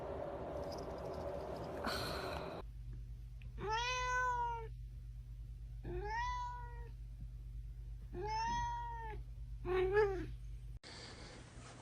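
A pet cat meows four times in succession, each call drawn out and fairly close, with short pauses between them and a steady low hum underneath.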